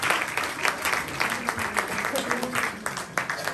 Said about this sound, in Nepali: उहाँको लागि हामी जोरदार तालीको साथमा